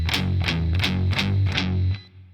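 Distorted electric guitar playing palm-muted power chords from a song intro, five heavy chugging strums in a steady rhythm with a thick low growl, then the last chord rings and fades.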